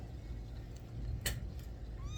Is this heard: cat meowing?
yes